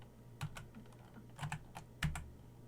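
Typing on a computer keyboard while configuring SNMPv3 on a Cisco ASA firewall: a few scattered, quiet keystroke clicks in small clusters, close and soft, with no talking.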